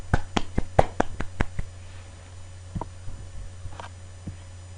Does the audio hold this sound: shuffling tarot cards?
no